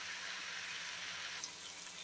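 Onion fries in a pan for potato and okra, a faint, even sizzling hiss that holds steady for two seconds with a slight brightening near the end.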